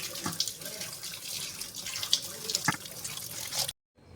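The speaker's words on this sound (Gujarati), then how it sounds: "આ રીતે ભાજી સારીથી ધોઈ નાખવાની, કારણ કે ધૂળ બહુ હોય આમાં" Leafy kali bhaji greens being washed under a running tap, steady splashing water with a few sharper splashes of handling, stopping abruptly at the end.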